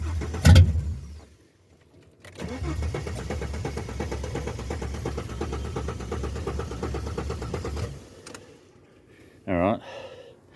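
An AU ute engine, able to switch over to gas, cranks and catches, then runs at a steady rumbling idle for several seconds before cutting off, with a person talking nearby.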